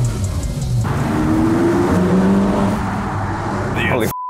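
A turbocharged car engine drones and rises in pitch while driving, with a hiss near the end, loud and close, and excited voices talking over it.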